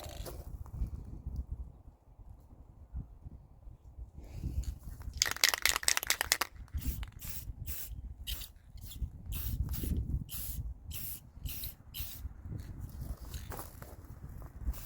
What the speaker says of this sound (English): I can now spray it with this, with the metallic.